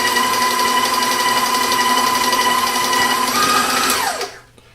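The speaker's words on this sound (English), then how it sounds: "I'm actually going to do a quick mix to mix in the lean with the fat" Electric mixer churning ground pork, lean and fat together, for homemade breakfast sausage: a loud, steady motor whine that holds even, then winds down and stops near the end.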